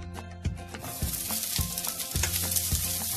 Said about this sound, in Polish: i będziemy smażyć cebulkę.